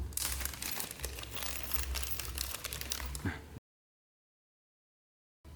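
Plastic packaging for upgrade parts for a 1/12 MN D90 RTR RC car being opened: steady close crinkling and rustling for a few seconds, then a sudden silence before the rustling resumes.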